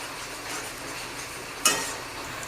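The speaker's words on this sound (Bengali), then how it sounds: "হাই ফ্লেমে মশলাটাকে কষাচ্ছি।" Spice masala with turmeric fries on high flame for an egg and potato curry, making a continuous close sizzle broken by one sharp scrape of stirring.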